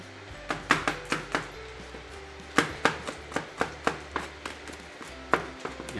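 A knife chops four garlic cloves on a cutting board in a home kitchen, with a steady run of close, crisp knocks in quick irregular rhythm and one brief pause, no talking.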